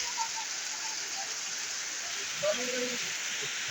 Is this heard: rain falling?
yes